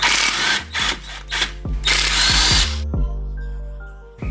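A power tool whirs in short, loud bursts while taking 14mm bolts off a factory transmission mount on an Infiniti Q50 or Q60, followed by metallic clinks and a fading mechanical whine.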